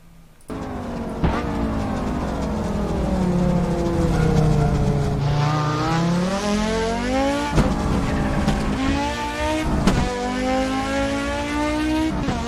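A loud sports car engine in Assetto Corsa revs hard on a country road, pitch climbing and falling through gear changes, with brief sharp pops and a touch of tire squeal, no talking.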